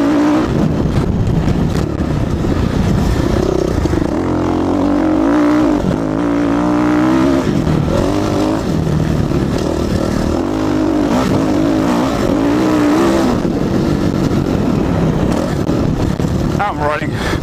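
A motocross motorcycle is ridden hard on a smooth dirt track in a low gear, its engine droning loud and close throughout with rising and falling revs and no pauses.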